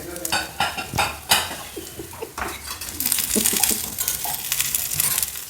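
Onions sizzle in a hot iron pan with curry leaves and garlic for a chicken gravy, while a metal spoon scrapes and clanks against the pan in repeated stirring strokes, close up, the frying hiss rising toward the end.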